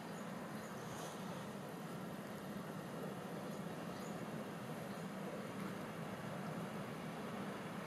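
Evening train at Łowicz Główny station, a steady broad rumble of rolling wagons and rail noise holding evenly throughout at moderate distance, with no voices.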